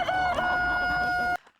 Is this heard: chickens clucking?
yes